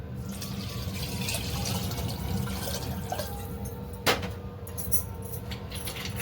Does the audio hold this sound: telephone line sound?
no